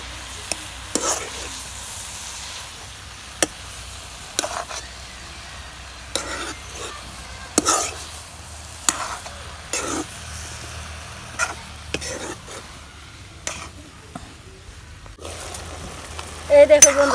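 Fried fish being stirred in a pan with spinach-like greens, repeated sharp scraping clicks from the spatula over a low sizzle, spaced irregularly, with some faint background sound but no clear talk.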